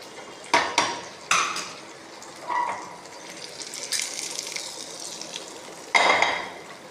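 Curd being mixed into hot cooked rice in a metal vessel, with a series of sharp spoon clanks and scrapes against the vessel, separated by softer squelchy stirring, close and clear with no talk.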